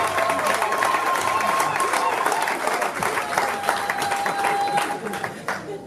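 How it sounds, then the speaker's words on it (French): Wedding guests applauding the bride at a celebration, a sustained wash of clapping from a crowd with a faint steady tone running beneath, loud and continuous before slowly thinning out. "est-ce qu'on peut applaudir la femme qui s'est mariée aujourd'hui?"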